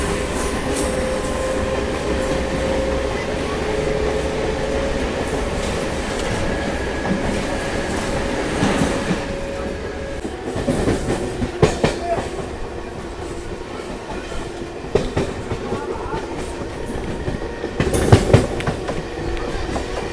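The Yesvantpur–Vijayapura train passes a crossing on the Gadag bypass line: a loud, continuous rumble of rolling wagons with rhythmic clickety-clack of wheels over rail joints and occasional sharper clanks near the end.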